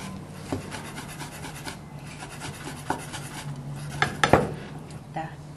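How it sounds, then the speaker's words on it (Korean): A kitchen knife slices meat into thin julienne strips on a cutting board, producing a run of close, rasping scrapes and soft rhythmic taps, with a few sharper knocks of the blade against the board near the end. "고기도 채를 썰어주시고요."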